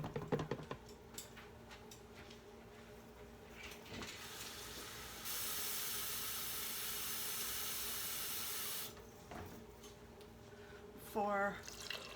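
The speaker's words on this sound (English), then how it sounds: "And then I'm going to fill this with water twice." Water runs from a tap into a container for an Instant Pot in a steady rushing fill of several seconds, preceded and followed by quiet handling knocks and drips.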